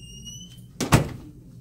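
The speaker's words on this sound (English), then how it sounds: "Close the door." A door closes with a single firm thud and brief rattle, close by and fairly loud, after a faint high electronic tone fades out in a quiet room.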